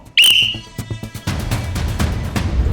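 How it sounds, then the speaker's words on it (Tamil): A loud, sharp whistle blast opens the sequence, followed by a busy crowd or room murmur with scattered clatter that builds and continues. "ஒரு விசில் சத்தத்துக்கு பதறுதுன்னா நல்லா பதறட்டும்"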